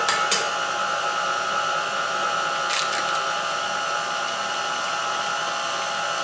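An electric mixer whirs steadily through coffee cake batter as eggs are mixed in, a close, continuous motor whine with a couple of brief clatters against the bowl.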